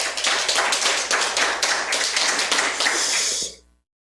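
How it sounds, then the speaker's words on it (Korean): Audience applause for a guest introduced as Korea's leading dementia educator at a lecture in Suncheon, dense clapping from a seated crowd for about three and a half seconds before stopping abruptly. "저 박수 한번 보내주시죠"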